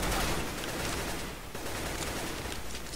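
Continuous submachine gun fire in a ragdoll physics game, a dense, steady rattle of rapid shots that runs unbroken at moderate loudness for the whole stretch.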